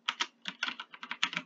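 Rapid bursts of keystrokes on a computer keyboard while entering LaTeX and Markdown in Google Colab, uneven clicks in quick clusters, close and fairly quiet, no talking.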